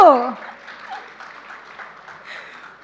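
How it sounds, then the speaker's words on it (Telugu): An audience applauds at a Telugu movie pre-release event for Transfer Trimurthulu. A voice is briefly heard at the start, then moderate crowd clapping continues throughout. "చప్పట్లు."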